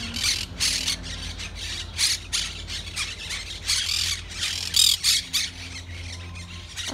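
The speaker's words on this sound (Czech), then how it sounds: "Tam taky jsou papoušci." Parrots squawk near their nests in a park, a series of loud, harsh calls in irregular bursts over steady outdoor background hum, with no talking.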